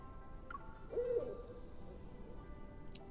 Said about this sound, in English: A plump little owl swoops down and lands on the autarch's shoulder.